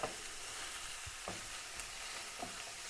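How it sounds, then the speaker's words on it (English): Onions sauté gently in a pan, giving a soft, steady sizzle with a few faint stirring scrapes, quiet and close. "We're just going to saute them a bit."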